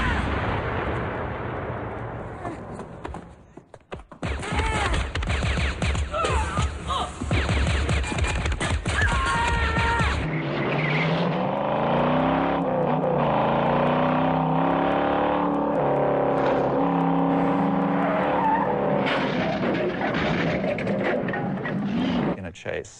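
Film car chase with screeching, skidding tires and revving engines, loud and dense, with bursts of impacts and crashes, then a long squealing slide under background music.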